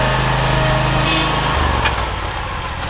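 A Skag lawn mower engine runs with a steady, loud drone and a dense high whine, close by and continuous, with a slight shift in pitch partway through and no talking.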